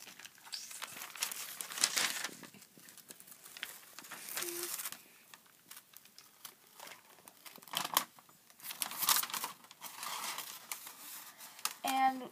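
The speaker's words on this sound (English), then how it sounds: "I'm going to take my scissors, and I'm going to cut it out." Scissors snipping out a duct tape sticker laid on parchment paper, heard as repeated close crinkling cuts and paper rustles in irregular bursts, with no talking.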